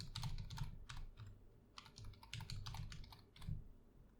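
Quiet, close keystrokes on a computer keyboard as a password is entered, a short irregular burst of clicks with small pauses and no voices.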